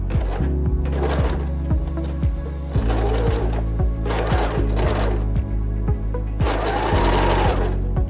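A sewing machine stitches a baju kurung with elastic in loud, close bursts of rapid rhythmic needle thumps, with brief pauses between runs and no speech.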